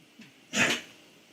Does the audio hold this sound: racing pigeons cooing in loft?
no